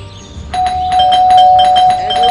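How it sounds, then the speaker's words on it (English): A doorbell rings repeatedly in the Scary Teacher video game, a bright electronic chime tone sustained with rhythmic repeated pulses, loud and close, with no talking. "That stupid bell again."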